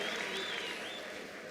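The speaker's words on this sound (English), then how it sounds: "Let's give Tsehu a brilliant applause." Steady applause from a crowd at a ministerial announcement of national exam results, a dense wash of clapping that holds evenly and eases slightly toward the end.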